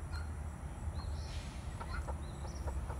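A broody hen clucks in short, soft bursts scattered through a few seconds, heard at close range over steady low farmyard rumble and background noise; no talking.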